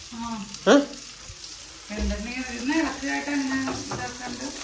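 Chicken fries in a pan and gets stirred repeatedly. A steady sizzle runs throughout with an occasional utensil knock, partly under people talking nearby.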